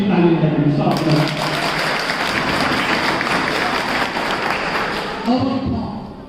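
Students in a classroom break into a short burst of dense clapping that lasts several seconds, with a voice speaking briefly before and after it.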